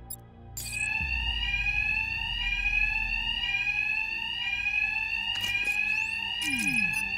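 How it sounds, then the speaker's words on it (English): A loud, repeating electronic alarm blares steadily in Batman: Arkham Knight, a constant piercing tone with a couple of brief impacts and whooshing sounds layered over it. "these thugs can't hear a thing over the alarms"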